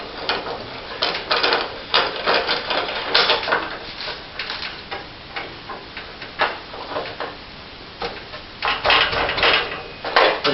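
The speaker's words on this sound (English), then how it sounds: "just take myself a good ball peen hammer, make sure the clamps are tight" Repeated metallic blows from a ball peen hammer on the frame of a 1989 Chevrolet Silverado ring out loud and close in irregular bursts, with short pauses between strikes.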